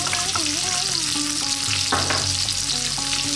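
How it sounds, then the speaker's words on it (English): Onions and minced beef frying in a pan for keema matar curry, a loud, constant sizzle with stirring scrapes running throughout. "Then we're going to add in our onions and the ground or minced beef."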